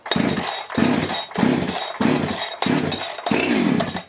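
A Husqvarna 365 Special chainsaw, restarted after sitting for a couple of years, revs loudly and close in six repeated bursts, each throttle blip rising and falling with short dips between.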